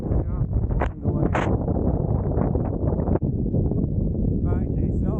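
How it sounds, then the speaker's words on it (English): Strong wind buffets the microphone near the Carl Side fell summit in the Lake District, a loud low rumble that blusters steadily throughout while someone talks over it. "It's very windy"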